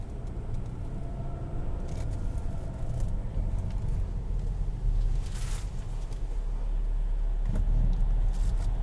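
Interior of a 2021 Kia Sorento SX Turbo all-wheel drive SUV on the move, with a steady low road and engine rumble, tire noise and faint rattles building slightly in loudness, and no one talking.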